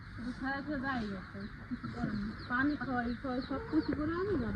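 Chickens cluck repeatedly nearby in short, rising and falling calls, with a faint murmur of background noise throughout.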